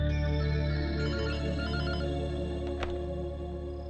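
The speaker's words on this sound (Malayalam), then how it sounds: "അതല്ല സർ, ഫോൺ ബെൽ." A telephone bell rings steadily and loudly in a home in a Malayalam comedy film scene, a continuous bright trill with no talk over it.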